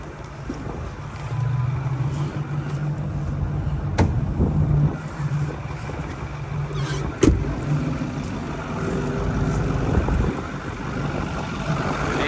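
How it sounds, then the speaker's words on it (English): A Ford Power Stroke Super Duty diesel engine runs at a steady idle with a low, continuous rumble, accompanied by some wind buffeting and a couple of brief clicks. "Yeah, that's a diesel."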